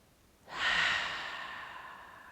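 One slow, calm breath during a power yoga session, heard close and soft as a long airy exhale that swells quickly and then fades gradually, with no talking.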